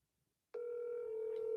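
A phone call is placed to a Detroit number: after a moment of silence, a steady electronic line tone starts abruptly and holds evenly and fairly loud, with no voices over it.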